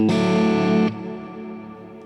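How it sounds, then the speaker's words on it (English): A Boss reverb pedal on electric guitar in a double-pedalboard rig with a Hughes & Kettner Nano amp: a loud, dense held chord cuts off after under a second, leaving a long reverberant tail that slowly fades. "Reverb."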